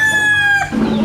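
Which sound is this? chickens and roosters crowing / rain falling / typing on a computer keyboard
chickens and roosters crowing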